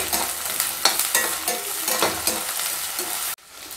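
Ginger, green chilli, curry leaves, carrot and peas sauté in a pan for upma, with a steady close sizzle and repeated scraping stirs of a spatula that cut off abruptly near the end.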